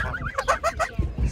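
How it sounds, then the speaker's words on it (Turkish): Young geese honk in a quick series of nasal calls at a busy poultry market in Ankara, close by, with low crowd rumble underneath. "Şurada kaz ferikleri var."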